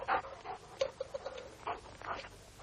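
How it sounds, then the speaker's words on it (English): Dogs pant and whimper softly in quick irregular bursts, faint and close, with no talking. "The dogs."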